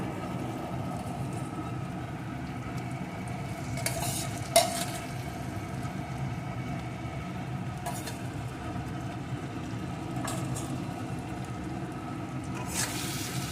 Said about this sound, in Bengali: এখন সব কিছু একটু ভালো করে কষিয়ে নেব সব কিছু কষিয়ে নিয়ে এর ভিতরে দিয়ে দেব সিদ্ধ করে রাখা আলুটা